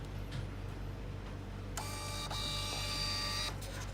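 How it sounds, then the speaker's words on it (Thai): A NITA iSH58 two-inch thermal receipt printer prints a receipt, a steady whirring buzz with clear tonal lines lasting about two seconds, starting partway through over low background hum and ending abruptly. "กดพิมพ์ใบเสร็จ"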